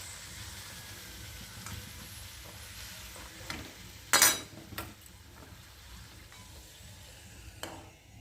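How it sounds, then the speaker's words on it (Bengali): Luchi frying in hot oil in a home kitchen gives a faint, steady sizzle, broken by a few sharp clinks and scrapes of a utensil against the pan. "পুরো লাস্ট কমপ্লিট লুচি ভাজা।"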